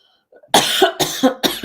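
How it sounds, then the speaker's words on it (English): Three sharp, close coughs in quick succession, each a harsh burst, after a brief quiet breath. "I'm sorry for the cough"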